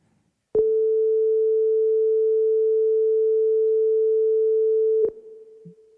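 A pure sine-wave melody line played in LUNA with light reverb, holding one steady tone for about four and a half seconds before cutting to a softer trailing note.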